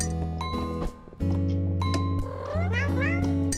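A cat meows in the video game Cat Herder, with several bright, rising meows over a looping musical game soundtrack that plays the whole time.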